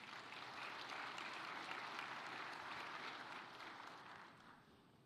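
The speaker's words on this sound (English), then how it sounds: "Let's please give him a round of applause as he comes up." Sustained applause from a summit audience welcoming a speaker to the stage, a dense steady wash of many hands clapping that holds for several seconds and then begins to taper off near the end.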